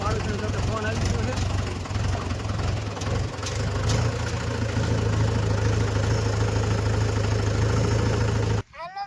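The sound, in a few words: tractor engine running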